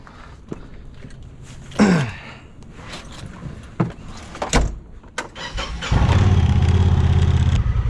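A machine on a trailer cranks with a few short bumps and coughs, then its engine catches and settles into a loud, steady, rough idle.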